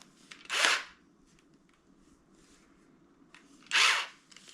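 An electric drill with an angle-cut bit, working on a Toyota Supra, whirs in two short bursts of under a second each, separated by a quiet pause with faint clicks.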